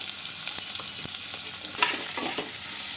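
Onions and crushed garlic sizzle in a pan for an urundai kuzhambu, with close, repeated stirring scrapes over a steady frying hiss. No voices.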